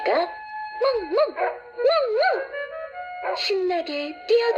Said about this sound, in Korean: 강아지가 멍멍